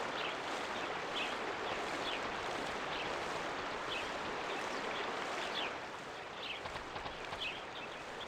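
A waterfall in the PS2 game Inuyasha: The Secret of the Cursed Mask gives a steady, dense rushing roar of falling water, continuous and even throughout with faint high flickers in the spray.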